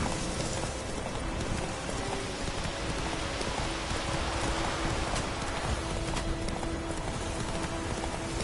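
Roach, a horse in The Witcher 3 on PS4, gallops with steady, rapid clip-clop hoofbeats throughout, close and continuous over a hiss of rain.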